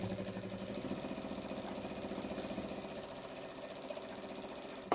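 A sewing machine stitches steadily through thick jelly roll strip tote seams, a continuous mid-pitched mechanical whir with a fast regular rhythm, close and fairly quiet, with no voices.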